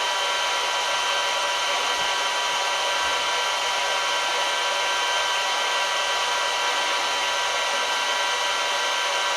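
A 230V three-phase electric motor runs slowly at about 10 hertz, driven from a single-phase 110V inverter, giving a steady, continuous hiss-like whine with a broad high-pitched electrical drone throughout and no talking.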